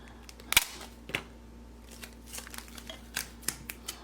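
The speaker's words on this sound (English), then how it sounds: "so then I'm going to tape that side" Adhesive tape is pulled and pressed down while decorating memo-pad stationery dividers, giving sharp close crackles and snaps, one loud burst near the start followed by scattered softer clicks and rips.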